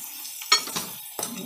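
Crabs roasting in a pan for a Kolhapuri-style spicy crab curry, a quiet sizzle with a few sharp stirring scrapes and clinks, alone with no talk.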